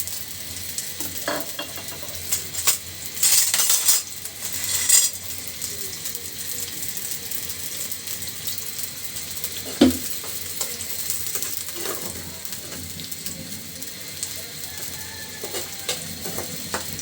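Chopped onion sizzles in hot oil with sliced green chilli and a bay leaf, a steady soft frying hiss with occasional stirring clatters and scrapes of a utensil against the pan.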